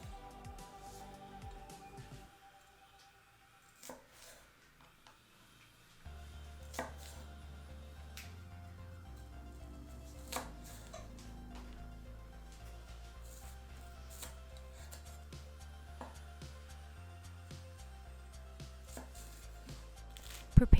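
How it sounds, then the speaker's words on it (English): Sharp knife strikes on a cutting board chop culantro in a quick, irregular series, close and crisp over a faint background hum. "Here I am chopping up some ngò gai, also known as culantro"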